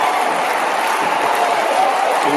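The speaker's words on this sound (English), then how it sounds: "A round of applause" Applause at a school year-group homecoming anniversary gathering, a loud, even, continuous wash of clapping from a crowd, heard close and steady throughout without any talking over it.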